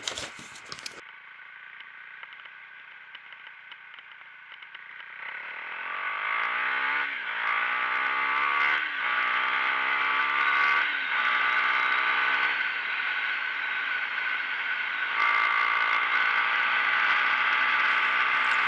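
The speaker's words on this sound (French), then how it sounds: "je vais vous faire une accélération" A Husqvarna Svartpilen 401 single-cylinder motorcycle idles, then revs hard through several rising sweeps as it accelerates, its engine note climbing and dropping repeatedly, loud and close throughout.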